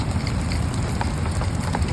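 Rain pours outdoors in a dense, steady hiss of drops hitting surfaces, loud and continuous with no voices.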